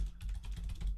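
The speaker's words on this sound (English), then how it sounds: "just typing up 1 sec." Quick close typing on a computer keyboard, a dense burst of clicks lasting about a second with low rumble beneath.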